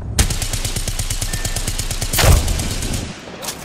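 Rapid automatic gunfire in an Apex Legends firefight, a steady stream of close, loud shots with a heavier blast near the end before fading.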